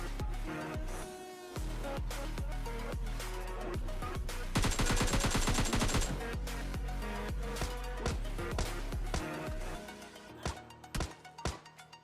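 Gunfire in PUBG Lite rattles in rapid bursts of sharp shots layered over loud, steady background music that partly masks them.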